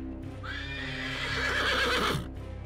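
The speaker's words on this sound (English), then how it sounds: "the samurai awoke, startled by the neighing of his horse" A horse gives one loud, drawn-out whinny that rises and then quavers down over about two seconds, with a low rumble underneath and no talking.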